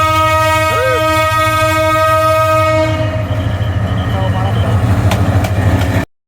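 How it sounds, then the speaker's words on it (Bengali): A night train arriving at Mymensingh railway station, with a loud sustained horn blast over the heavy rhythmic rumble and clatter of wagons rolling close by. "দেখতে পাচ্ছেন একটা ট্রেন আসতেছে, রাতের ট্রেন"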